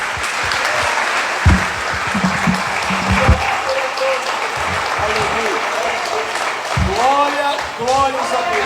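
Sustained applause from a church congregation at a Sunday service, a dense patter of clapping throughout, with scattered thumps and some voices mixed in.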